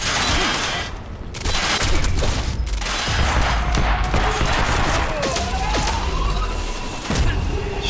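Sustained gunfire in the video game Quantum Break, dense rapid bursts and booming impacts overlapping almost continuously at high volume, with only a brief lull early on.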